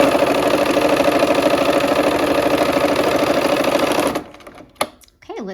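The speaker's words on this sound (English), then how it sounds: "we're gonna go ahead and sew that on" A sewing machine stitches quilt block pieces at a scant quarter-inch seam, a fast, steady mechanical whirring run up close that stops abruptly near the end, leaving brief clicks and a few handling noises.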